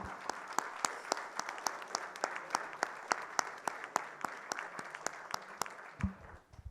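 A church congregation applauds at a worship service, with sharp rhythmic clapping, nearly in unison, at a steady beat before fading out near the end.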